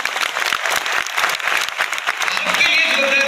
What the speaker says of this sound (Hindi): एम्बे के लिए एक जोरदार तालियां